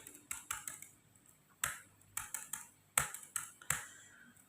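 Keys clicking on a computer keyboard as a formula is typed, sharp separate taps in small bursts with short pauses, close and clear in an otherwise quiet room.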